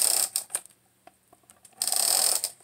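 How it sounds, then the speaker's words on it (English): A jumbo tape runner rolls adhesive onto a handmade Valentine's card, giving short ratcheting, clicking rasps at the start and a longer steady zip near the end, close and crisp. "This time I prefer to use my tape runner"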